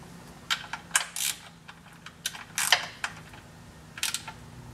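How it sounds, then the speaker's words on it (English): Close metallic clicks and ratcheting taps of a wrench snugging the bolts on an aluminum Magnuson supercharger blower snout, coming in short irregular bursts over a steady low hum. "And then tighten the blower bolts."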